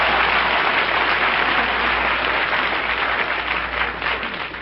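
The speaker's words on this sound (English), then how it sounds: "Applause." A studio audience at a vintage radio comedy show breaks into dense, sustained applause, loud and continuous before gradually thinning toward the end.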